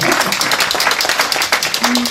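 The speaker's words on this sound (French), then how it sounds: "On les applaudit très fort." Audience applause for club founding presidents at an awards and distinctions ceremony, steady dense clapping filling the short stretch, with a voice speaking over it.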